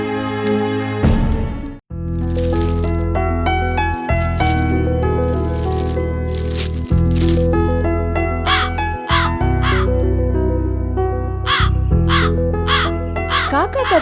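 A crow caws repeatedly in short harsh calls, growing frequent in the second half, heard over a continuous droning musical backdrop in a Tamil television serial.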